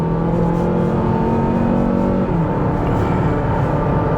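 A Mazda Skyactiv car engine strains under heavy load from inside the cabin, a loud continuous drone with a faint brief dip midway that suggests a misfire, and nobody speaks.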